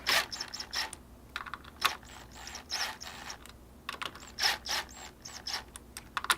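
Clutch cover bolts on a Honda Grom are loosened against spring pressure, giving a close series of sharp ratcheting clicks and metallic ticks in irregular bursts with quiet gaps between them.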